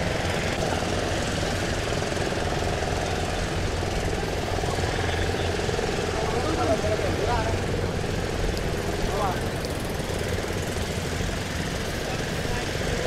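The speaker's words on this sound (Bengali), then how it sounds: "ছোট ছোট নৌকাগুলোর কি মারাত্মক আওয়াজ, এত ওপর থেকেও আওয়াজ কানে পুরো তালা লাগিয়ে দেওয়ার মতন।" Small motorboats on the Narmada river at Omkareshwar, heard from high above, make a steady, dense engine drone that holds without a break throughout.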